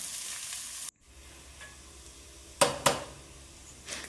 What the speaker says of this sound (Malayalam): അപ്പോൾ സവാള നന്നായി വഴന്ന് വരട്ടെ കേട്ടോ.